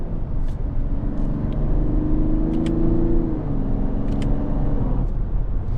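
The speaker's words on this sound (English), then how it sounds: "let me downshift here a couple times" A 2024 Mazda CX-90 three-row SUV engine in sport mode revs steadily, its tone rising and briefly dipping around each quick downshift, then dropping away near the end, a continuous close-up drone with no talking.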